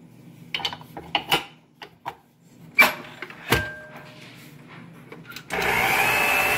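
A few knocks and clicks of setup are followed by a mixing machine starting up and running with a steady loud whir while it kneads dough for Amritsari kulcha.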